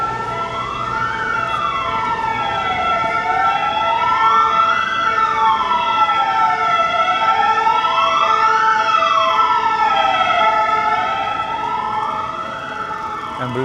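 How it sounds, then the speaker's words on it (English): Emergency sirens, including an ambulance, wail loudly and close by on Paris streets, rising and falling in a repeating sweep over traffic noise, with several overlapping tones. "Sirens everywhere you go."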